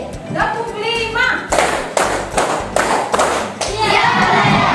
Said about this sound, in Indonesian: Sekali lagi, tepuk konsentrasi